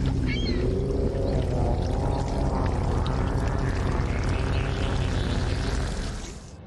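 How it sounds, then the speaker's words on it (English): Cereal pours in a Roblox game as a continuous rushing, rattling cascade lasting several seconds, loud and close, then tapers off at the end. "Press F to pour cereal."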